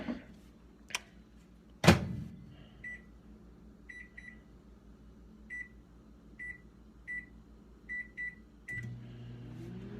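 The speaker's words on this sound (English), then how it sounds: "Stick our bowl in the microwave." A microwave oven heating a bowl of ramen noodles for cheesy ramen: a door thunk, then repeated short electronic beeps as the timer is set, and the low hum of the oven starting up at the end.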